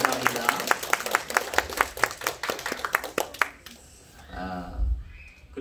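At a Korean Presbyterian Sunday worship service, the congregation claps to welcome visiting guests with a burst of sharp, fairly regular handclaps that dies out after about three and a half seconds, followed by a murmur of voices and room noise.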